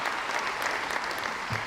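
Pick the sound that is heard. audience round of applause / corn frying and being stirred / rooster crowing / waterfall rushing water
audience round of applause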